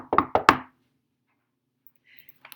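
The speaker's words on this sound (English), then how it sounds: "So the wolf crept up on tiptoe and knocked on the door." Three quick, firm knocks on a door in close succession, sharp and near, followed by near silence with a faint rustle.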